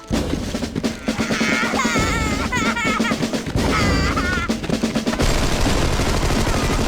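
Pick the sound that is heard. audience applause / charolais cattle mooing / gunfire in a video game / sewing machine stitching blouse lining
gunfire in a video game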